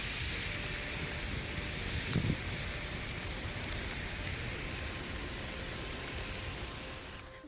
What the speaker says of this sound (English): it's very rainy for Christmas season